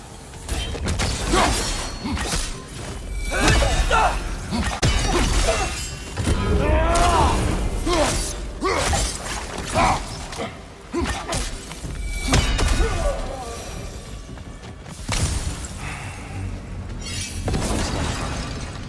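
Light bombs burst amid a fight with elves in God of War Ragnarok, glassy shattering cracks and heavy thuds erupting repeatedly through a chaotic battle with whooshes and clanks.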